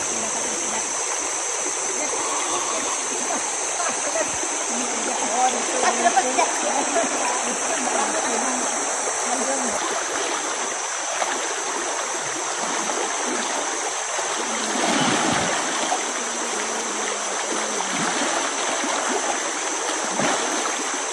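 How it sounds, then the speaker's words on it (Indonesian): Clear water rushing along a river stream in the Borneo forest, a steady broadband flow close by with splashing and trickling throughout, continuous and fairly loud. "Beginilah karakter sungai dan hutan ala"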